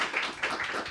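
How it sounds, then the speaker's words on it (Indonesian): Studio audience applause for a guest on an Indonesian TV talk show, a steady, dense patter of many clapping hands filling the whole moment at moderate loudness with no voices. "Tepuk tangan buat Pak Aziz Subakti."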